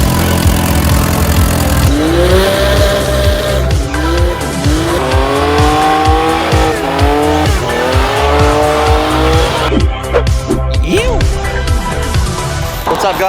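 A BMW E36 drifting at a track event, its engine revving hard and shifting pitch over and over while long tire squeals rise and fall, loud and close throughout.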